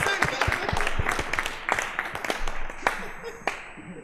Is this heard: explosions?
no